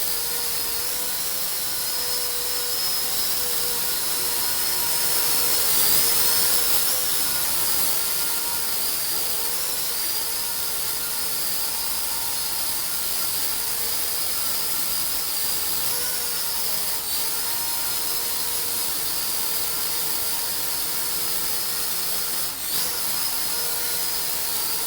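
A ZEN Mini drone hovers indoors, its propellers giving a thin, steady high-pitched whine with a faint airy rush that holds level for the whole stretch, with a few slight wavers.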